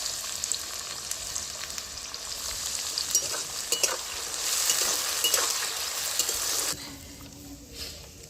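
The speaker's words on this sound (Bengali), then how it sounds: "এবার আমি বিনসগুলো ভেজে নিচ্ছি" Green beans sizzle and fry in a salted wok, a loud, steady crackle with occasional stirring clicks that swells midway, then quiets abruptly near the end.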